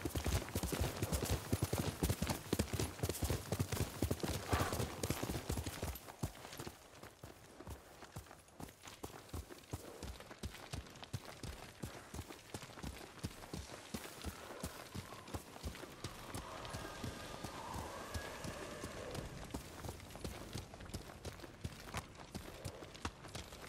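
Kage the horse trotting in Ghost of Tsushima, a steady run of hoof clip-clops carrying throughout, loudest and densest early on, then continuing a little softer under ambient game sound.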